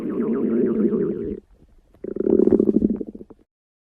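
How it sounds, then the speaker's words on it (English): A hungry stomach growling up close, two long, loud gurgling rumbles separated by a short quiet gap. "Oh, it's just my stomach growling."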